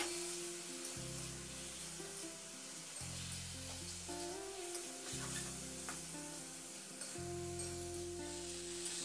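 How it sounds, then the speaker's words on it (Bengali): Potatoes fry in mustard and poppy seed paste, sizzling steadily while a spoon scrapes and stirs them around the pan in repeated strokes, close and moderately quiet, with music playing underneath. "এবার আলুর সঙ্গে আবার আমি বেশ কষা কষা মতো করে এটাকে বেশ একটু কষিয়ে নেব।"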